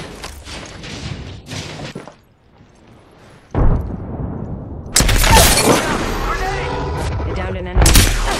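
Gunfire in the battle royale shooter Apex Legends, bursts of loud shots and impacts broken by a short quiet gap, then a sustained barrage of rapid fire with a voice speaking briefly.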